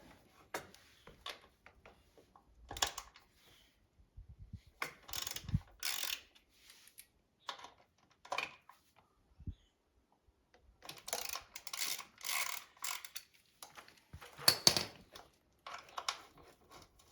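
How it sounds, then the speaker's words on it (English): Ratchet wrench working loose the rear-set bolts on a Kawasaki ZX6R motorcycle, with close, quiet bursts of rapid clicking separated by pauses. "Having a little trouble accessing this bolt, so I'm just going to loosen off the rear sets."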